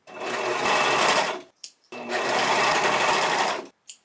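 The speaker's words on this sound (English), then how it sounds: "I'm gonna go ahead and serge the two seams that I just did" A serger stitches two seams on a homemade fabric balaclava, running in two loud sustained bursts of about a second and a half each, with a short pause and small handling sounds between them.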